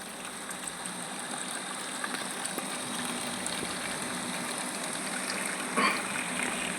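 Clear liquid natural soap base pours out at a manufacturing site in a steady, continuous trickling stream that runs unbroken throughout at moderate level, with no voices.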